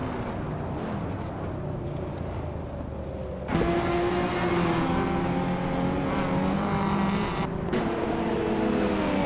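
Racing video game cars, including a 1993 Renault 19, droning steadily with engine roar that jumps louder partway through and stays continuous, no talking.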